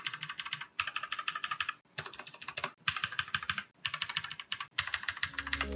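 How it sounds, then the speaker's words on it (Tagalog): Rapid, close typing on a Wizmax WK4 mechanical keyboard fitted with clicky blue switches, crisp clacks coming in steady bursts separated by short pauses, with no voices. "Ito yung sound ng keyboard."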